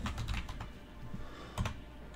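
Quick, steady typing on a computer keyboard at close range, a run of light clicking keystrokes with a slightly louder burst of taps near the end, no voices over it.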